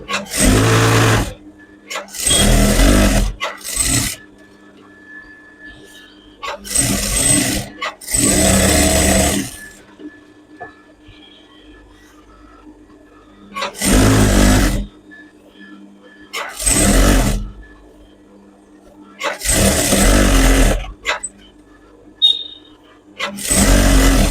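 A sewing machine stitches fabric for a jacket in bursts of loud mechanical whirring, several runs lasting one to two seconds each, separated by quiet pauses.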